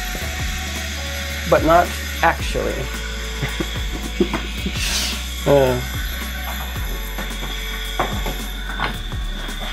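A wooden casement window's crank operator ratchets in several quick bursts of clicking as the sash swings open, with knocks and handling sounds between them, and a voice speaks briefly.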